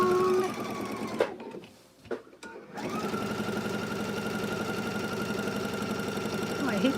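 A sewing machine stitches log cabin quilt blocks in a quilt-as-you-go project, running in a fast, even rhythm close by, pausing briefly for about a second and a half, then starting again and stitching steadily to the end.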